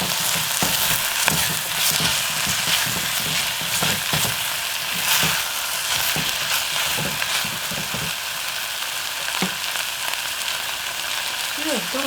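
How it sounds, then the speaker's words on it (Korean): Meat with scallions and onions stir-fries in a pot for soft tofu stew, a continuous loud sizzle with frequent scraping stirs throughout and a faint voice at the very end. "이게 볶는, 요리할 때 볶는 게 맛을 한층 올려줘"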